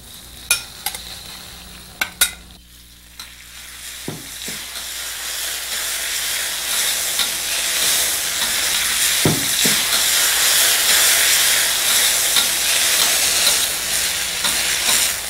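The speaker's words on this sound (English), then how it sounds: "Put a teaspoon of ghee in our wok. Let's heat it up. Pop in our ur dal." Ur dal sizzling and hissing as it sautés in a teaspoon of hot ghee in a wok, a few sharp clatters at first, then a steady, loud frying hiss that builds and holds.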